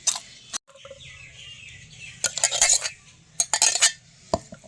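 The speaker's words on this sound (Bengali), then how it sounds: "ঠিক এইভাবে চালনির সাহায্যে আমি নিয়ে নিচ্ছি, ছেঁকে নিচ্ছি" Tomato pulp pressed and scraped through a large sieve for homemade tomato sauce, giving bursts of close metallic scraping and clinking in short clusters between quieter gaps, with no talking.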